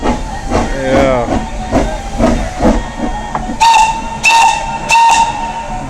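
The Mocanita forestry steam train in the Carpathian mountains lets off loud, close hissing steam, then sounds several sharp whistle blasts in quick succession, with a voice speaking briefly at the start.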